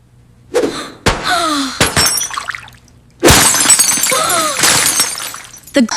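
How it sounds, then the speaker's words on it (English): Glass smashes several times in loud, close crashes, each a sharp impact followed by a bright spray of tinkling shards, separated by short silences. "The glass broke."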